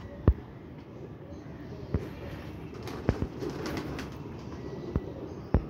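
Pigeons coo softly and repeatedly at close range, low throaty calls over a rustling background with a few sharp knocks or wing flutters.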